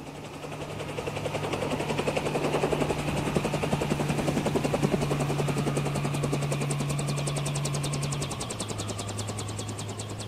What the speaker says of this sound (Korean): 난민들이 탄 어선을 발견한 건 해양경비대 헬리콥터였어요.